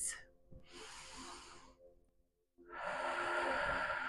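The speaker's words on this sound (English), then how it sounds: "close off this practice with a few deep breaths" Slow, deep breaths at the close of a vinyasa yoga practice: a soft, airy inhale, a pause into near silence, then a longer, louder breathy exhale, heard close and alone.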